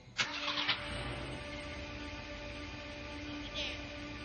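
A big motorcycle engine turns over and settles into a steady idle, a close mechanical hum with harmonic whine that runs on evenly, with a brief revving swell near the end.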